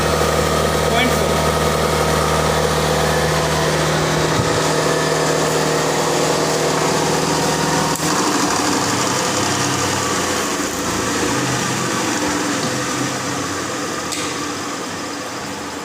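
A synchronous alternator generator runs at rated current in an electrical machines lab, a loud steady mechanical hum and whir that continues throughout, with someone talking over it.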